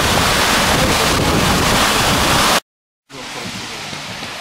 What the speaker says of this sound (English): This is the creek that forms Issaqueena Falls, and we're standing just at the top of the falls here.